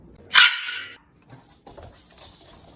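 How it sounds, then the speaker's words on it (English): A Shiba Inu lets out a sharp, high-pitched scream, one loud close yelp that trails briefly, followed by quieter faint whines and rustling. "they'll let out the infamous Shiba scream"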